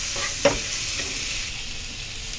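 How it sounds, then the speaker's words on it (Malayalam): Spices tempered in hot oil crackle and sizzle in a pan, with one sharp clink of a spoon as they are mixed. A steady close hiss continues throughout, with no talk. "അപ്പോൾ നമ്മളിത് കടുപ്പിച്ചിട്ടുണ്ട് അപ്പോൾ ഒന്ന് മിക്സ് ചെയ്തെടുക്കുക"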